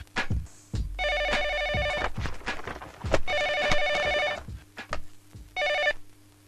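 A telephone rings indoors in a Kannada film scene, three bursts of bright bell trilling separated by pauses, with thumps and footsteps moving around between the rings.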